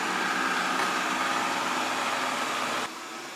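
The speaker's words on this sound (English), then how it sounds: "people don't have time to watch the vacuum clean the entire house, or even this room" A Proscenic 820S robot vacuum cleaner runs with a steady, broadband whirring hum of motor and brushes, fairly loud and close, dropping slightly in level near the end.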